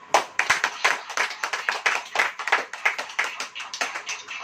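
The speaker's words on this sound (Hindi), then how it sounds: "अगर आप आनंदित हैं तो ताली बजाइए" Members of a church congregation clap during a worship service, a fairly sparse, distinct, rhythmic run of hand claps in quick succession, close and moderately loud, with no speech over it.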